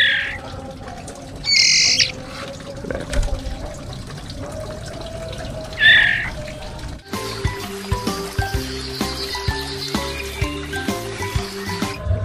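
A young, hand-raised white-rumped shama chick gives a few short, loud, harsh squawks, well spaced and close by. Watery, musical background sounds take over in the second half.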